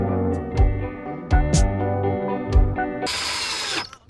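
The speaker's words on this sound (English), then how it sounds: "So this power drill is really cheap." Cheap power drill running in bursts of steady whirring with changing pitch, a few sharp clicks and knocks between runs, close and fairly loud, ending in a brief harsh noise burst.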